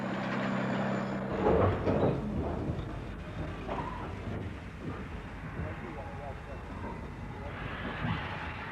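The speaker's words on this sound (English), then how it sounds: "Hauled by the forest engine, number 993, the one that's coming back to UK." Forest locomotive number 993 hauls the final timber train out of a forest, giving a steady, fairly loud rumble and mechanical clatter that runs continuously from start to finish.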